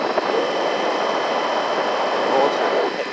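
A Bafang M600 mid-drive motor on a carbon-fibre e-bike in first gear at full throttle, giving a steady, close whine that holds over rushing wind without dropping off.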